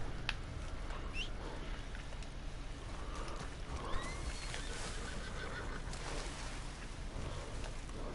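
Horse whinnying in a video game, a brief neigh rising above a steady wash of ambient game noise, with no talk.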